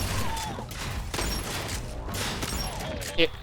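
A shotgun firing and reloading in the video game Sentry, dense mechanical clatter and gunfire under someone talking, with a sharp click near the end.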